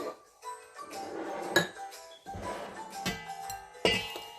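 Wet ingredients and sugar stirred together in a bowl for hot cross buns, a utensil scraping and clinking against the sides in uneven strokes, close and fairly clear, with two sharper knocks against the bowl.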